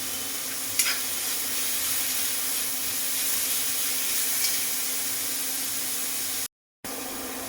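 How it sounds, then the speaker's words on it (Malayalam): Vegetables sautéing with salt in a pan while making idli, a steady close sizzle and hiss running throughout with a brief stir scrape near the start and a short dropout near the end. "ഇത് നല്ലപോലെ വഴറ്റിയെടുക്കണം"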